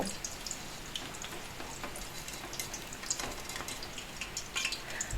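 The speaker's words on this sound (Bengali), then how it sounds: "তো এই পদ্ধতিতে আমি সব কটা ফুলুরি ভেজে নেব" Tal (palm fruit) fritters, fuluri, frying in hot oil, a steady soft sizzle with scattered crackles and pops, fairly quiet and continuous with no voices.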